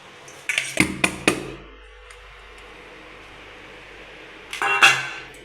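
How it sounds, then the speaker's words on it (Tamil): Beetroot jelly is turned out onto a plate: a quick run of hard clinks and clatters of dishware, then a quiet pause, then another brief burst of plate and utensil knocks. "இதை நம்ம இந்த தட்டில் போட்டு கட் பண்ணலாம்"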